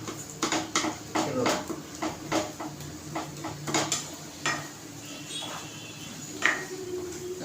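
A spoon scrapes and knocks repeatedly against a pan while stirring and breaking up lumps of potato and semolina dough, producing irregular close clinks and scrapes over a faint background hiss.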